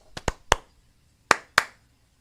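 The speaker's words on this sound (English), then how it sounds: "So 2 claps. Ready?" Sharp hand claps, close and dry: three quick claps followed by a pause and then two more, each a crisp isolated smack in an otherwise quiet room.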